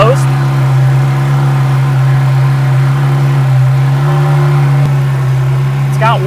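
A Porsche GT3 RS engine runs steadily and loud from start to finish, a constant deep drone with light revving layered on top.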